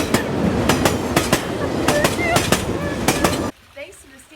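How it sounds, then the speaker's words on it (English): A steam train rolling along with rhythmic clickety-clack wheel beats on the rails, steady and fairly close for several seconds, then cutting abruptly to a quieter scene. "With the steam train."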